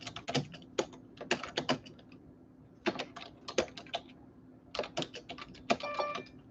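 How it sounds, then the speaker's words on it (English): Fingers tap on a computer keyboard in quick irregular clusters of crisp clicks, fairly quiet and close, with short pauses between bursts. "Keyboard."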